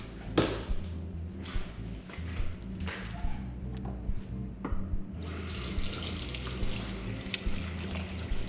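Tap water runs steadily into a sink while an onion bulb is rinsed, a continuous close splashing with small irregular shifts as the bulb moves under the stream.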